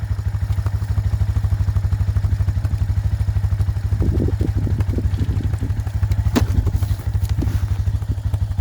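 An Arctic Cat four-wheeler engine idles and chugs steadily, towing a mini boat, with a low continuous drone throughout and some clattering thumps and rattles of the trailer and hitch partway through.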